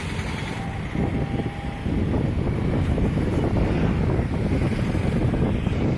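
Steady, loud rush of water churning and roaring through the Hirakud dam, with gusty wind buffeting the microphone throughout.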